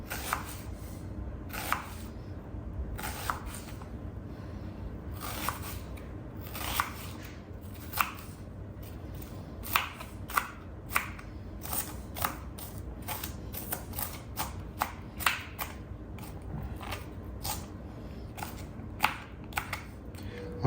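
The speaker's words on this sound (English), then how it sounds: "We want the onion to have some flavor, so I'm going to cut this a little bit thicker here." Knife slicing onion into thick pieces on a cutting board: a run of sharp, irregular taps and crunches close by over a low steady background hum, with no talk.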